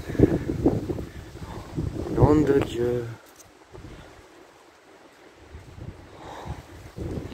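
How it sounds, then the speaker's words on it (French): Strong mistral gusts at Saint-Rémy-de-Provence roar and buffet the microphone as a low, rumbling rush. A man's exclamation comes first, then the wind carries on alone, rising and falling. "C'est horrible, ce vent."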